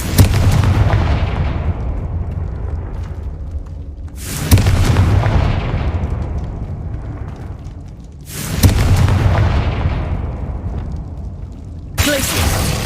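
Confringo spell blasts in the video game Hogwarts Legacy go off as three heavy booming explosions, each a sharp loud burst fading into a long rumbling decay, with a fourth starting at the end.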